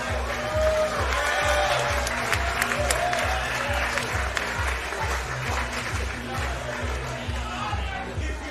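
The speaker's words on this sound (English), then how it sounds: "Big round of applause, ladies and gentlemen." A crowd at a world championship sumo event applauds with a steady wash of clapping and cheering, while a low rhythmic thump of music pulses underneath throughout.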